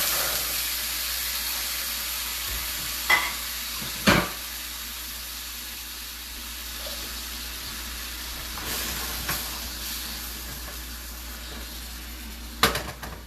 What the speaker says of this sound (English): So I saute my seafood a bit.